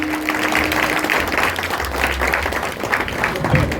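Wedding guests applauding the Agossou family, clapping under loud music with a bass line and a held tone, voices mixed into the noise.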